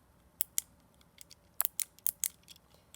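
Sharp, close clicks from pressing buttons on a fidget pad, arriving in an irregular run of single and paired taps with short gaps between them.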